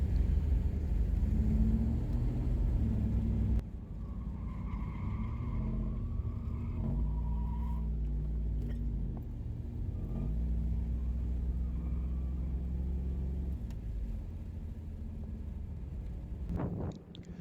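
A 1992 Chevrolet Camaro Z28 V8 drones steadily on touring laps around a race track, a low engine rumble with wind buffeting the microphone, heard from inside the car.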